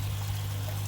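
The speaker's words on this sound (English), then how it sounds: "This sprays, keeps fresh water flowing through the top." Water sprays and flows continuously through the top of a polyfill biofilter in an aquaponics system, a steady close rushing pour with a low hum beneath it and no talk.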